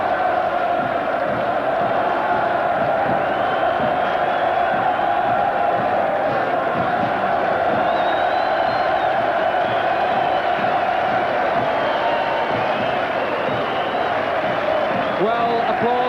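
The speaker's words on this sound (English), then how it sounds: "applause in turn from the Leicester players to one of the most loyal bands of supporters in club rugby in Britain" Crowd noise rises from a club rugby ground as Leicester players applaud loyal supporters, a broad, continuous roar of clapping and cheering under a commentator's voice.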